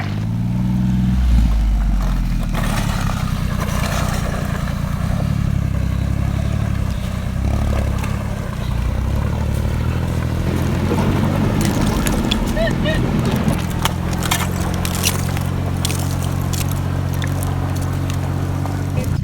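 A Honda Acty Japanese kei mini truck camper grinds off-road through deep ruts, its small engine droning and revving steadily with clattering bumps throughout, under people talking.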